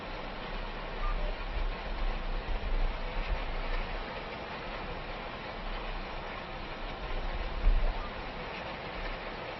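A tractor pulls roll rings across a field at a steady six miles an hour in the farming game Farming Simulator 25, making a continuous low engine drone with a rumbling, rolling undertone and no breaks.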